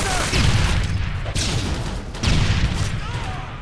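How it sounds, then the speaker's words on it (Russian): Two heavy grenade blasts in an online shooter game's capture-the-flag match on the Dome map, the first near the start and the second just past the midpoint, each with a booming low rumble and a long rolling tail. "Граната!"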